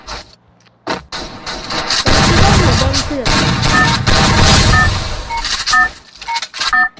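Rapid bursts of gunfire from a zombie video game crackle loudly for several seconds, with a voice talking in Thai before and around the shots.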